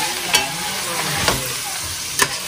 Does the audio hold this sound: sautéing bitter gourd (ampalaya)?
yes